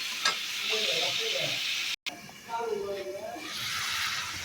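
A pot of tilapia fish curry with drumsticks and potatoes bubbles and hisses on the heat, a steady close sizzle under a person talking, broken by a brief cut in the middle.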